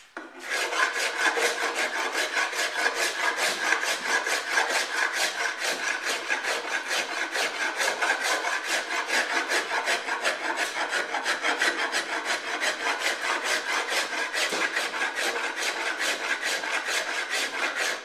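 Rasp filing a wooden guitar neck in long, even back-and-forth strokes, a continuous rhythmic scraping that stays close and steady for the whole stretch with no talking.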